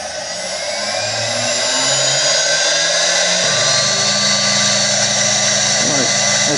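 A newly installed CNC mill runs a cutting program at a faster feed rate, producing a loud, steady whine and roar with tones that shift in pitch as the spindle and axes move.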